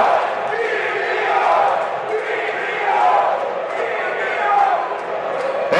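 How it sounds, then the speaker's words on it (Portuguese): Guarani football supporters chanting in a stadium during a Brazilian league match against Santos, a broad, steady crowd roar with swelling rhythmic chant waves heard from a distance. "E olha a torcida do Bugre do Brinco."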